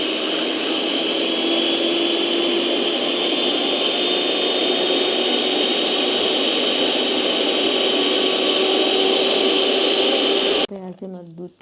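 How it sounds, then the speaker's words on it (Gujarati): A Ninja chopper mixer churning milk for homemade makhan runs as a loud, steady high-pitched motor whine with a constant drone for about ten seconds, then stops, and a voice is heard briefly afterward. "નિંજાનું મિક્સર લઈ આવી છે, જે ચોપર મશીન છે"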